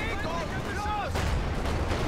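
Distant rattling gunfire and battlefield rumble from a Company of Heroes 2 match with British forces, with short whistling sweeps over a dense, busy background din.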